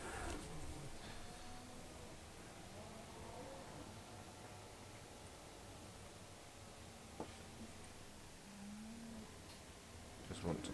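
Cows mooing in a livestock enclosure on a Farming Simulator 17 farm, low lowing calls spread through the clip over a steady ambient hiss, with a couple of brief clicks near the end.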